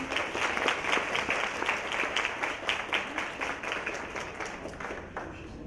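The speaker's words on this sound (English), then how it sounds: "Give yourselves a big round of applause" A crowd at a community tribute event gives a sustained round of applause, dense clapping heard moderately loud and continuous with some faint voices beneath.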